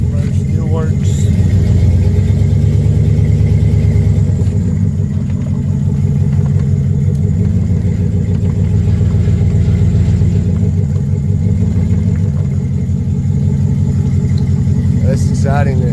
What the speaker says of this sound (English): It's exciting that the truck's going. It's been so long since it's run before.